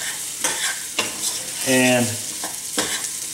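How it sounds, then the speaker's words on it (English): A spatula stirs onions in a pressure cooker pot for rice pilaf, making rhythmic scraping strokes with a light sizzle underneath, while a voice briefly speaks midway. "So basically all you're doing is you're stirring"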